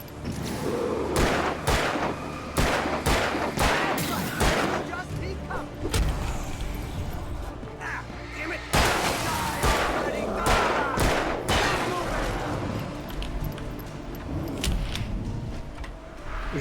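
Repeated gunfire in Alan Wake, sharp shots in irregular bursts mixed with loud in-game combat noise, continuing across the whole stretch with dense overlapping clatter.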